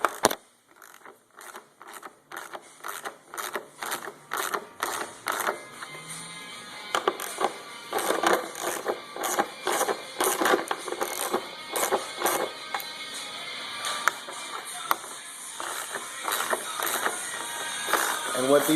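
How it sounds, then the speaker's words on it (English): Two screws being worked out of an Evo X headlight assembly: close, rapid ticking and scraping clicks from the screwdriver, in irregular bursts that grow busier toward the end, with some low background noise. "We'll have to walk these 2 screws out."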